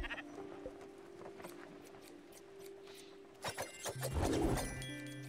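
Several short sheep bleats from the video game Spiritfarer sound in quick succession near the end, after a quiet stretch with faint clicks and a low hum.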